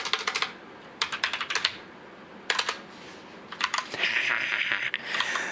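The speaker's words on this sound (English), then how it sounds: "That is one loud keyboard." Loud computer keyboard typed in quick bursts, clattering clusters of sharp key clicks separated by short pauses, close and clear with no voices.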